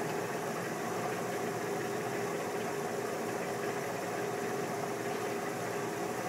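A small electric motor runs steadily under a PID speed controller, an even, continuous hum with a faint whine and no talking over it.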